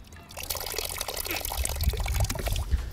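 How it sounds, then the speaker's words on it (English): Water blown back out through the mouthpiece of a LifeStraw personal filter, a steady gurgling, splashing flow that runs for several seconds and grows slightly fuller toward the end, heard close and without talk. "And when you're done drinking, just blow back through the filter."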